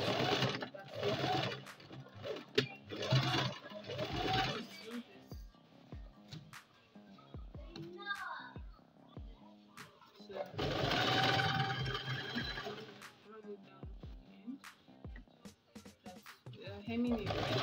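Sewing machine stitching strips of Aso-oke fabric together, running in loud sustained bursts at the start and again midway, with someone talking over and between the runs.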